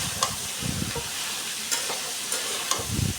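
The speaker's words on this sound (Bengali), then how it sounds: "একটু নেড়ে চেড়ে আলুর সাথে কাঁঠালটাকেও ভেজে নিতে হবে" Jackfruit and potato pieces fry with green chilli in a pan, a continuous close sizzle broken by several soft scraping stirs of a spatula.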